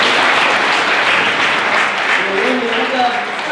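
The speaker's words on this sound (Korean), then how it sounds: "다 같이 한번 박수 한번 부탁드리겠습니다" Indoor event audience applauding together, a dense, steady wash of clapping from many hands throughout, with a host's voice speaking faintly beneath near the end.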